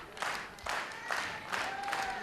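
Wrestling crowd at a Future Stars of Wrestling show roaring and clapping for Sami Callihan, with waves of cheering and applause swelling in three loud surges over a steady arena din.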